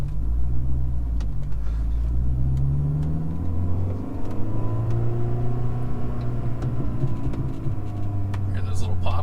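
A 2005 Mini Cooper S R53 engine idles with a steady low rumble and faint exhaust pops crackling over it, close by, with a person talking faintly underneath.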